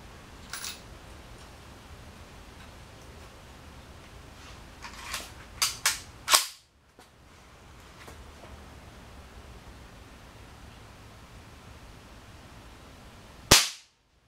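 A primer-only blank fired in a homemade firing mechanism, heard as a few faint clicks and a sharp crack, then near silence before another single sharp snap.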